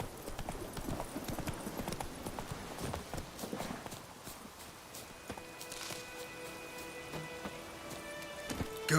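Hooves of the horse Roach clip-clopping in The Witcher 3 game, a quick rhythmic run with rain-like patter early on, then quieter with musical tones later.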